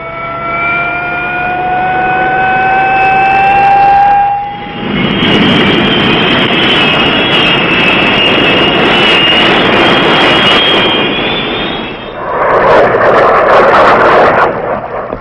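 Military jet aircraft flying in for close air support: a loud, steady jet roar with a descending whine at first, then broad rushing noise that swells and holds, ending in a shifted rumble as it passes close by.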